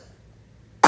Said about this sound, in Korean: 기침이 점점 심해지는걸?